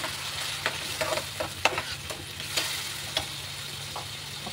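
Tomatoes frying with onion and garlic-ginger paste in a pan for soya paneer pav bhaji: a continuous hiss of sizzling with scattered light clicks of stirring, close and unaccompanied by talk.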